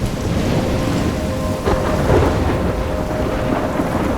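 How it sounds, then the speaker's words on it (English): Steady, dense rain from a thunderstorm in the video game Life is Strange, with a low rumble of thunder swelling under the loud, continuous downpour and no voices. "I'm trapped in a storm?"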